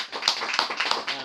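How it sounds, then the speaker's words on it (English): Scattered hand clapping from a small audience at a book launch, uneven and fairly close, with broadband bursts rising and falling over a little over a second. "I think we can give him a hand for the book"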